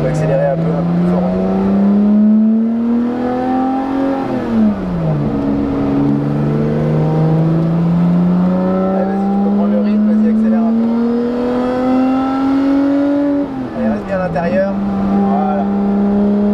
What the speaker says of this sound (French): Tu peux accélérer un peu plus fort.